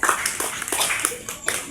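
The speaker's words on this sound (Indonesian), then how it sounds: "Beri aplaus." Students in a classroom applaud during an athletics lesson on the long jump, with irregular, loosely synchronized claps from a small group, close and moderately loud, plus a few sharper individual claps.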